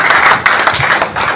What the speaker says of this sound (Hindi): एक बार इस बात के लिए और जोरदार तालियां बजा दीजिए।